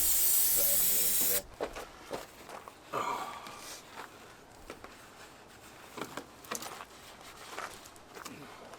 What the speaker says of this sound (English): Then we spray it down with some brake cleaner.